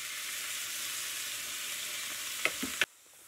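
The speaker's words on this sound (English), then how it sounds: "I'm going to put in my cleaned up mushrooms and start cooking these together." Mushrooms and peppers sautéing in a pan, a soft, steady sizzle broken by a few quick clatters of stirring before the sound cuts off.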